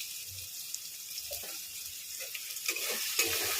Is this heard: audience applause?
no